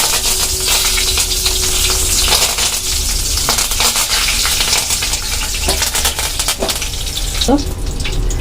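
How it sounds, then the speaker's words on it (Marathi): Loud, continuous sizzling of curry leaves hitting hot oil, with sharp crackles and pops scattered throughout and a few bright clinks near the end. "तर सर्वप्रथम आपण हे कढीपत्ते टाकू"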